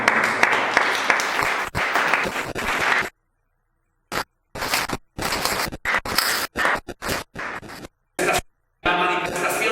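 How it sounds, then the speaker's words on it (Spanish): A church congregation applauds loudly for a few seconds during a service. The clapping then cuts in and out in short bursts, and a final stretch of applause rises at the end. "Démosle palmas al Señor."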